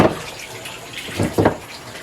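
Water from a hose or tap washes through a screen-printing screen being cleaned of emulsion, giving a steady splashing hiss that swells in a few louder bursts where the spray hits the mesh.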